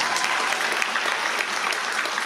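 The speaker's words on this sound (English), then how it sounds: "So let's give them both a round of applause." Audience applause for NJROTC cadet award winners at a school ceremony, brisk continuous clapping from a crowd in a hall, even and fairly loud throughout the short burst.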